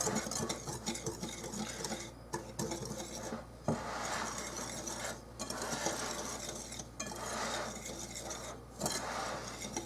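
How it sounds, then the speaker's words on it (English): A whisk mixes dry ingredients for a chocolate buttermilk sheet cake in a bowl, making soft, quick, rhythmic scraping and tapping with a few short pauses. "Add all your dry ingredients there. And we're just going to whisk that together."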